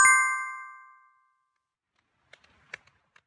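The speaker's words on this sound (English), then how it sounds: "Whenever you hear the sound of this bell, slow down the Kriya and come to a stop." A single bell is struck once, ringing out with a bright, clear tone that rings on and fades over about a second, followed by near silence broken by a few faint soft taps.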